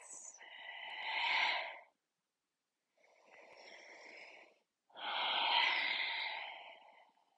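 Three slow, close breaths taken while holding a hatha yoga shoulder pose, each a soft airy rush separated by short silences, the last one the fullest.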